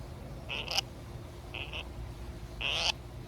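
Three short, raspy chirping calls from a lineolated parakeet, spaced about a second apart, close and fairly loud over faint background hiss.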